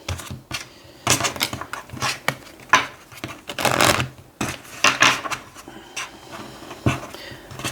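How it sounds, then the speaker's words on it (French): Oracle cards being shuffled by hand, irregular bursts of papery riffling and soft slaps repeating close by over several seconds. "Je rebrasse les cartes."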